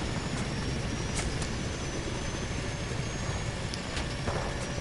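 A helicopter going down in a military shooter video game, heard as a loud, steady roar of engine and rotor noise with a few brief bright bursts, without speech.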